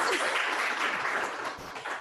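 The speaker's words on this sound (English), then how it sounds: "that deserves a round of applause" Audience applause at a health advocacy breakfast: a steady, dense wash of many hands clapping together, fairly distant and even, tapering slightly toward the end.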